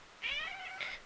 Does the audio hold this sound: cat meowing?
yes